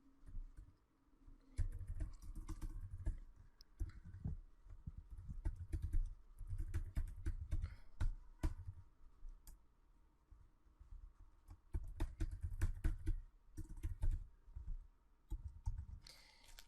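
HTML code is being typed on a computer keyboard in close, quick bursts of key clicks separated by short pauses, with no voices.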